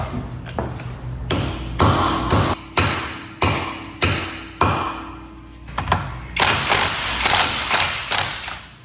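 Lug nut socket being forced onto a wheel lug on a stock Mazda Miata, then the lug removed: a run of sharp metallic taps and ratcheting clicks, with loud, close impacts repeating at irregular intervals throughout.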